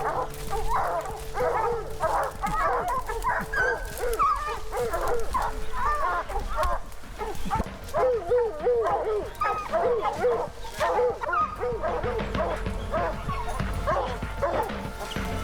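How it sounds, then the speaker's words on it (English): A pack of hunting hounds bays and yips continuously while chasing a black bear in North Carolina woods, their overlapping barks and whimpers dense and fairly close, with faint voices now and then. "You hear those hounds going after a bear."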